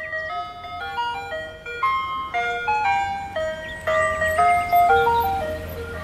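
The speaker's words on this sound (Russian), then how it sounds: "Машина с мороженым без водителя проехала." An ice cream truck rolls past in a cartoon, its jingle chiming a bright, steady melody of bell-like notes at moderate loudness for several seconds with no talking.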